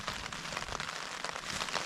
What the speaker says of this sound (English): the rain's been on now for quite a few hours